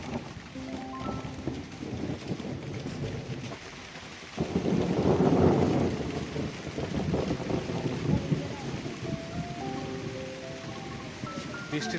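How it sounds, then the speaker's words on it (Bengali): Thunder rumbles through a steady downpour during a storm that breaks a spell of intense heat, with a deep roll swelling midway over the constant patter of rain and faint voices talking in the background. "দেখো বন্ধুরা মেঘ ডাকছে, কি দেখেছো, আর বৃষ্টিও পড়ছে।"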